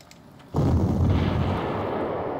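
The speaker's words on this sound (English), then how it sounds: "Use my big arty on these guys." A heavy artillery piece fires in the war strategy game Panzer Corps 2. One sudden loud boom is followed by a long rolling rumble that stays strong to the end, with no talk.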